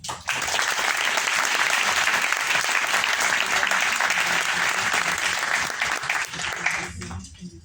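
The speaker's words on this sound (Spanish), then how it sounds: "solicitamos al público un aplauso" Audience applause at a public talk on the 2030 Agenda and the SDGs, greeting an award given to the speaker: dense, steady clapping filling the whole stretch, tapering slightly near the end.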